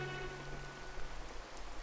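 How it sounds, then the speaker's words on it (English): Soft, steady rainfall in the video game A Hat in Time, a faint, even patter with a few held tones fading out at the start. "I'm surprised the rain doesn't wash that off."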